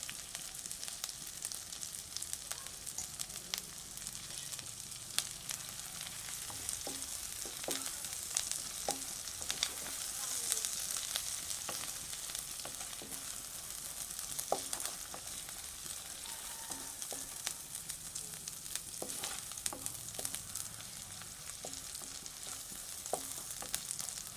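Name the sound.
ginger being sautéed in oil for pulao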